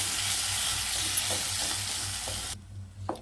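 Masala gravy being stirred and sautéed in a pan on a low flame for paneer angara, a steady soft sizzle with scraping stir sounds, close by, that thins out near the end.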